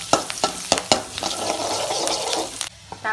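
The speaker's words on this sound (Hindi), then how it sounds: "तापर बटर मेल्ट हो सारापर आम ए रसुण पकाई दबा" Garlic sizzles and fries in melted butter in a pan for a noodle pasta dish, steady close crackle broken by sharp stirring scrapes near the start, with no voices.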